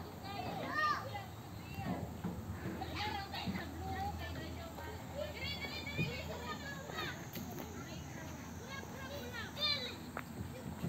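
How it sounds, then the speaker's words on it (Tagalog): Many children playing in a park in Japan in the early evening, their overlapping shouts, squeals and chatter sounding moderately distant, with footsteps and ambient murmur underneath. "Ang daming naglalaro doon, oh. Mga bata."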